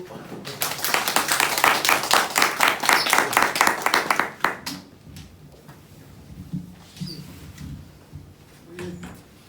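Audience at a museum lecture claps loudly to welcome the director of the Gyeonggi Provincial Museum, a dense burst of clapping lasting a few seconds before it fades and a voice carries on alone.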